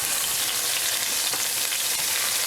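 Diced sweet onion, carrots and red pepper fry in hot oil with a loud, dense, continuous sizzle and no voices over it.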